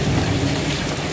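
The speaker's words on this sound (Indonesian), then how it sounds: "Ini hujan es." Heavy hail and rain pour down in Saudi Arabia, a dense, loud, continuous hiss and patter of falling ice and water with a low rumble underneath, steady and close.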